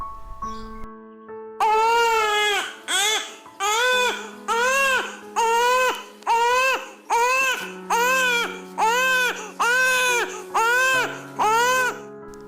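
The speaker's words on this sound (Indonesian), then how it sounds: "Suara tangisan bayi membuat Fatan lega." A newborn baby cries in repeated loud wailing bursts, each a second or so long with short breaths between, over a low sustained background tone in a romantic audio drama about a birth.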